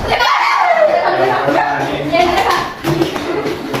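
Schoolchildren in an Indonesian classroom play the tepuk nyamuk clapping game, quick claps mixed with lively chatter and a teacher's voice calling out.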